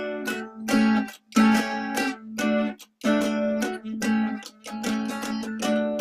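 Dulcimer with reversed strings plays a Latin rhythm, a series of bright plucked phrases with syncopated breaks and short pauses, close and clear with no talking.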